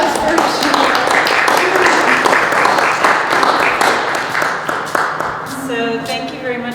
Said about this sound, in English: let's have a round of applause for Sheila.